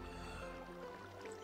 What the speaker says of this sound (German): Und dann fließt das Wasser ja runter.